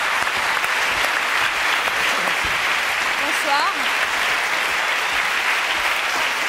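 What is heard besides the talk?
audience applause and cheering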